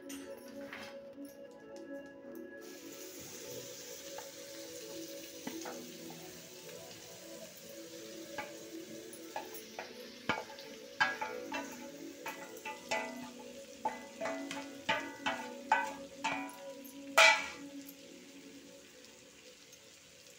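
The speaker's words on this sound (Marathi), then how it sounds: "आता हे तेल जे राहिलेलं आहे त्याच्यातच मी आता कांदा परतवणार आहे" Onion frying in the oil left in a pan for an egg tawa masala, a soft steady sizzle that grows into louder, irregular crackles and pops toward the end, with no one talking.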